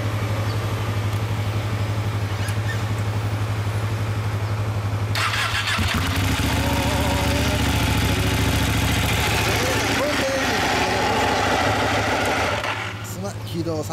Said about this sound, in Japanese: エンジンかけてもらえますか？